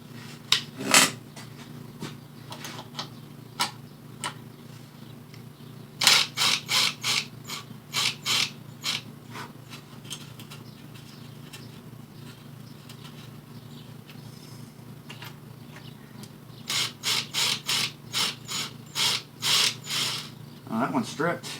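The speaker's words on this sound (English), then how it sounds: "screws go all the way through, so I have to take your screws out to get that lined up" Screws are backed out of an old, rotted, warped wooden raised bed planter with a ratcheting tool, making bursts of quick clicking pawl ticks separated by pauses, close and moderately loud over a faint background hum.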